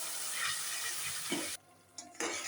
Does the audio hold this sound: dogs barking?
no